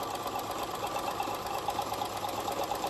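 An old sewing machine runs a straight quarter-inch seam, its fast whirring, buzzing stitch steady and close throughout with no pauses.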